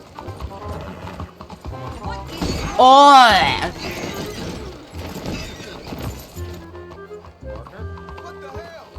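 Horse hooves clip-clop at an easy pace while riding through town in Red Dead Redemption 2, close and rhythmic, with a loud burst of other game sound midway and someone talking and exclaiming over it.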